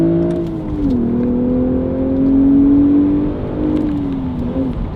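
BMW Z4 with a Valvetronic Designs exhaust and OEM downpipes, heard from inside the cabin with the top up: a steady, moderate engine drone that rises and falls gently at cruising speed, with no talk.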